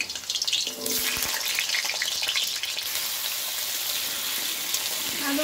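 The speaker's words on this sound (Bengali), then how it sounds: "তেলটা গরম হয়ে গেছে, এর মধ্যে আলুগুলো দিয়ে দেবো।" Potato pieces fry in hot oil for a rainy-day khichuri, with a continuous bright sizzle and crackle close by and no one talking.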